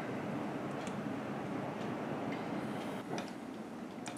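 Steady, dense rushing noise of heavy rain pouring outside, with a few faint ticks and knocks over the constant wash.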